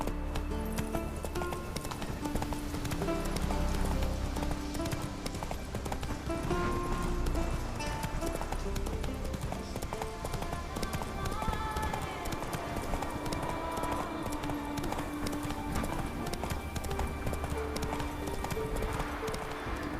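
Roach, a horse in The Witcher 3, gallops with a quick, steady clip-clop of hooves that carries on throughout, with occasional talk over it.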